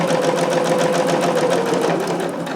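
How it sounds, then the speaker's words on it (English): A home sewing machine runs a seam of a jumpsuit at a steady hum, stitching forward and then back-stitching, loud and close with no voices over it. "Once again, 5/8, stitch, back stitch,"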